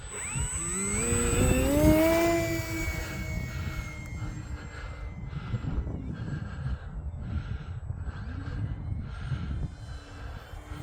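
An E-flite Extra 300 electric RC aerobatic plane on a 4S 3200 battery flies at quarter throttle outdoors. A steady motor drone swells as it passes close around the two-second mark, then continues more evenly at moderate distance with shifting pitch.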